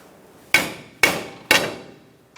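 A hammer peens over a washer on an inner tie rod of a 2002-2006 Honda CR-V, striking metal three times in a sharp, evenly spaced, ringing sequence, close and loud.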